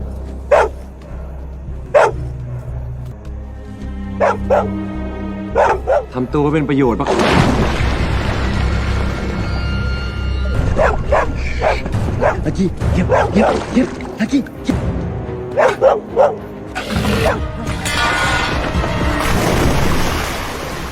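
In a survival film, a dog barks at a crocodile. Sharp, separate barks ring out among deep booming, splashing sounds and music, with a voice talking over parts of it.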